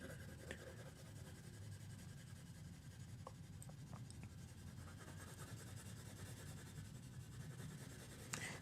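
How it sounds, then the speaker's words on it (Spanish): A pencil shading on paper, pressed harder and harder to darken the tone, gives a steady, close scratchy rubbing that continues throughout with no talk. "Sigo apretando cada vez más el lápiz porque me doy cuenta que esto no está oscuro lo suficiente."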